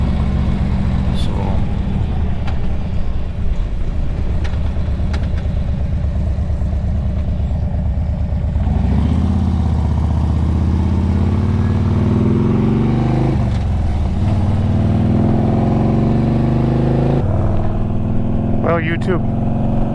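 A vehicle drives steadily along a rural road with a constant engine and road rumble that shifts in tone partway through, while someone talks over it.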